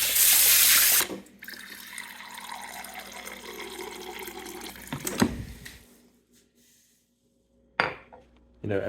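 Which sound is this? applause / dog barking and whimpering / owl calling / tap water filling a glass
tap water filling a glass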